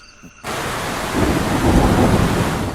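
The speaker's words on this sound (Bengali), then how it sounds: "বৃষ্টি আর ঝড়ের প্রকোপ শুরু হলো। সে কি বৃষ্টির বেগ!" A rain and thunderstorm effect in a Bengali ghost audio story bursts in after a brief quiet start, with heavy rain and a loud rolling rumble of thunder that swells midway.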